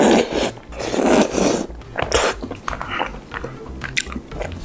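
Close, wet chewing of black rosé tteokbokki with chewy rice cakes, squid and Vienna sausage, with repeated bursts of mastication and soft crunching in an uneven rhythm.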